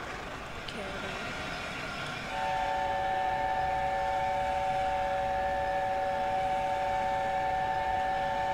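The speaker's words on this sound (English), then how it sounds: "Okay, that's the whistle for the station." Steam locomotive whistle in the Mallard train simulator game: a steady, sustained multi-tone whistle starts about two seconds in and holds loudly to the end over a low running rumble.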